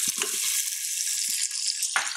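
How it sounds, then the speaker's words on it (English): A chopped onion sautéing in a pot of roast drippings, a dense, loud, steady hiss of sizzling with a few soft bumps of stirring, close up and without voices. "Let the onion saute for just 2 minutes, just to kind of soften up and pull up all that goodness off the bottom of the pot"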